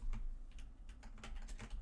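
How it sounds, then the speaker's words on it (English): Quick bursts of typing on a computer keyboard, a rapid irregular patter of key clicks close by and fairly quiet, with no voices. "Sorry about the keyboard."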